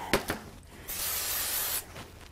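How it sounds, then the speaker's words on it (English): One sustained burst of spray glue hisses for about a second onto the back of a die-cut Celtic overlap card, with a few short taps and handling knocks just before it, close and clear. "I'm going to use some spray glue on the back of both of these."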